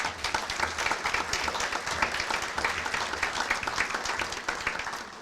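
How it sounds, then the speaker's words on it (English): An audience gives a sustained round of applause at a community event, dense steady clapping from many hands that fades slightly toward the end, with no voices over it. "Let's give them one more round of applause, please."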